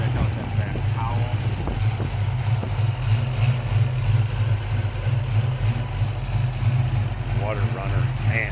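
A 1991 Ford Mustang LX convertible with a rebuilt engine and BDK launch headers idling steadily, a low continuous rumble close by, with someone talking over it.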